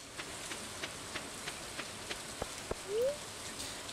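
Light rain falls steadily in the farming video game Stardew Valley, a soft hiss broken by faint scattered drip clicks and a brief rising chime midway, with no voices.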